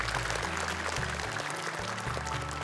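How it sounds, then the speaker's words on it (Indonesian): Studio audience at the Hafiz Indonesia 2025 Quran memorization show applauding young contestants, steady dense clapping that runs unbroken from start to finish at moderate level. "Boleh tepuk tangan untuk mereka."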